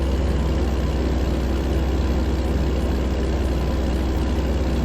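A Caterpillar 3406A diesel engine in an American Truck Simulator truck drones loudly and steadily at low revs while climbing a hill, a continuous heavy rumble with no clear shift change audible.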